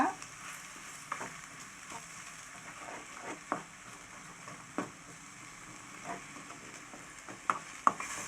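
Egg cabbage rice being stirred in a frying pan, with a steady soft sizzle and frying hiss punctuated by occasional scraping clicks of a spoon against the pan, moderately faint.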